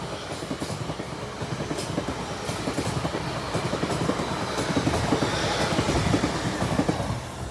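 A Class 801 train rumbles past a level crossing with continuous rolling clatter and rising wheel noise, close and loud, building toward the end with no talk.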